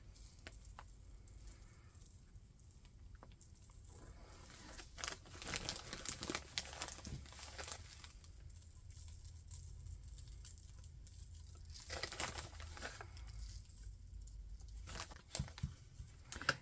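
Artificial snow is sprinkled onto glue on a tabletop tree scene, giving a faint, soft crinkling patter that comes in quiet bursts, with no talk.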